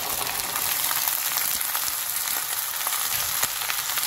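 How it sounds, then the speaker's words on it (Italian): Drained chickpeas sizzle and crackle steadily in a pan, a close, continuous frying hiss dotted with small pops and stirring clicks. "Ora scolo i ceci e li metto nel tegame."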